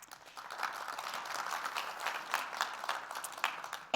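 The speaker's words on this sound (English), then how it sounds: "big applause for Autodesk as well" A crowd claps at AWS re:Invent 2018, a dense, steady patter of many hands. It sounds moderately distant and ends with a short sharp noise.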